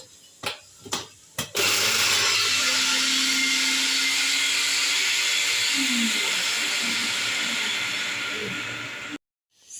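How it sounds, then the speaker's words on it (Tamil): Mixer grinder blending onion, coconut and dried masi fish, a loud whirring grind that runs steadily for several seconds after a few short pulses, then cuts off abruptly. "ஆட் பண்ணி நல்லா மிக்சியில் அரைச்சி எடுத்துக்கலாம்."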